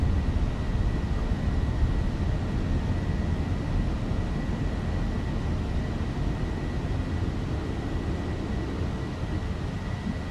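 Steady, loud jet-engine roar of an airliner climbing after takeoff in Microsoft Flight Simulator 2020, an even broadband rush with a faint whine on top, continuous throughout with no talk.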